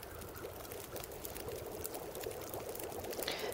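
Water boiling in a pot over a fire in the survival game The Long Dark, a steady bubbling hiss that continues without a break at moderate volume, with no voices.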